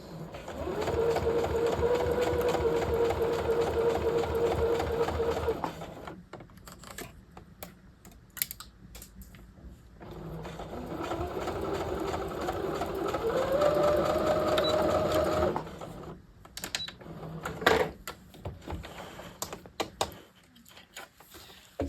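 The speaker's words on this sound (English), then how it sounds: "I should be sewing this with the pocketing on the top" A sewing machine runs in two long stitching bursts while sewing pocketing onto a double welt pocket on a half-scale jacket, a steady close whir with a short pause and brief handling clicks between runs.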